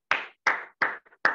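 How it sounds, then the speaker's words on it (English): Claps heard over a video call during a club meeting, four sharp separate hand claps spaced evenly, close and clear against silence. "round of applause."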